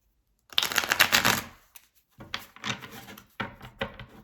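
Tarot cards are shuffled close up, a dense riffling rush followed by several shorter bursts of papery rubbing and slapping with brief gaps between them, and no voices present.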